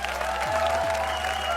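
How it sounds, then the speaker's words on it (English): A crowd applauding steadily while a sustained musical tone plays underneath. "please get up out your seat and give a huge round of applause"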